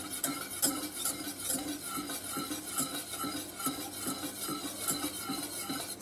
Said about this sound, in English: So I'll get my large whisk and just